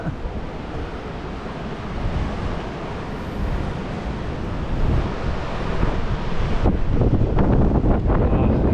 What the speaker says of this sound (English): Here's the wind. Stronger wind.